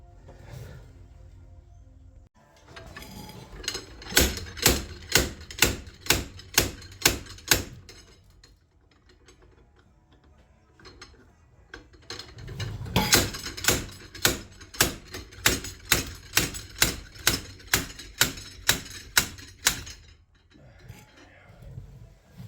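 Two long runs of sharp, evenly spaced metallic knocks from a slide hammer pulling a Toyota Tercel Wagon 4WD rear axle free, each series building in force, separated by a quieter stretch of scraping and shuffling.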